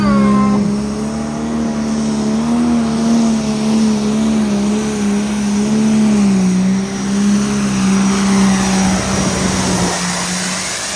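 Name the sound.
high horsepower tractor pull run, limited edition class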